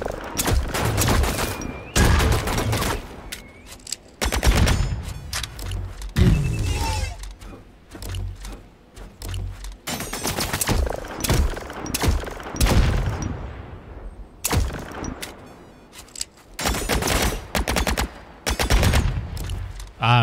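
Bursts of gunfire ring out in The Signal From Tölva video game, with rapid volleys and single shots recurring throughout, loud and close, separated by brief quieter gaps.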